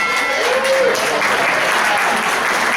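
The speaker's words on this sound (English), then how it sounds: "Let's give them a round of applause," A live Double Dare game show crowd at Nickelodeon Family Suites in Orlando applauds loudly and continuously after a timed obstacle course round, a dense wash of clapping filling the room.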